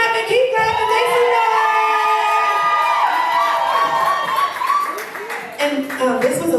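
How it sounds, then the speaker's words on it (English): An event audience roars with cheering, high excited screams and clapping as someone takes the stage, a loud, dense crowd sound that swells and briefly dips. "Keep clapping"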